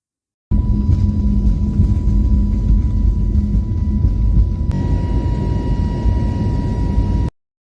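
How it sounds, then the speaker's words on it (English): Jet airliner taking off on a flight to Jomo Kenyatta International Airport in Nairobi, heard from inside as a loud, steady engine roar and rumble that holds throughout, shifting in tone partway through. "Now let's just enjoy the takeoff."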